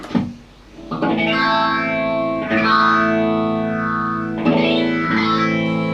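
Distorted electric guitar chords ring out through a cyclic modulation pedal effect, the tone rising and falling in slow, wavelike cycles with reverb.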